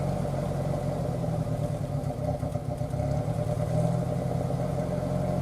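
A 2002 UAZ engine idles after warming up for about ten minutes, a steady low clattering rumble heard close and alone without any talk.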